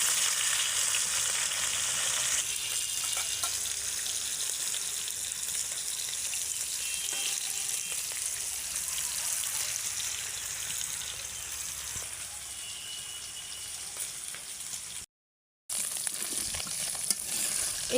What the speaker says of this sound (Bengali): এই তো আমার মাছগুলো ভাজা হয়ে গেছে